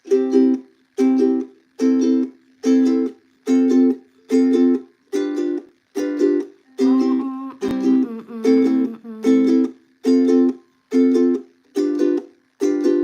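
A ukulele strummed in a steady down-up pattern, each burst of chords cut off by a crisp stop, repeating evenly about once a second.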